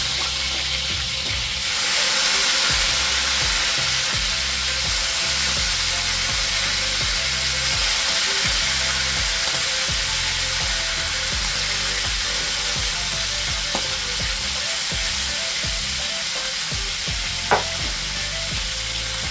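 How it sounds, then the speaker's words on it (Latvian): Shashlik meat sizzling loudly in an oiled frying pan, a dense continuous hiss and crackle heard close up, with an occasional faint clink from a utensil. "Šeit mums smuki cepās."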